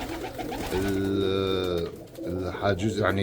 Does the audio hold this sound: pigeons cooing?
yes